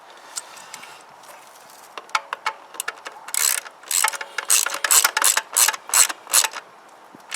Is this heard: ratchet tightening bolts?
yes